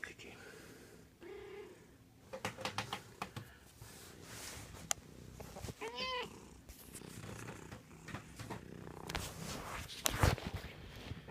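A cat meows once, close by, amid rustling, footsteps and shuffling on a cold day just after heavy rain.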